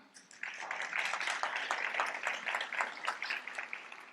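An audience at a leadership institute demo day claps for the team coaches, a moderate, fairly close patter of applause that starts abruptly and tapers off over a few seconds.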